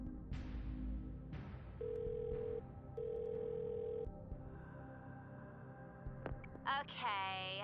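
A telephone call being placed for the phone-a-friend lifeline in the Who Wants to Be a Millionaire game show: dial and ringing tones in steady bursts over faint background music, ending in a few rising electronic chimes.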